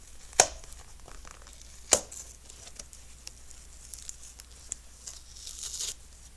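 A blade cuts into a cardboard shipping box, giving a couple of sharp ripping stabs followed by lighter scraping and tearing, close and quiet.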